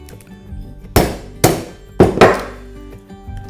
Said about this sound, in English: Just hammer the claws and take out the meat.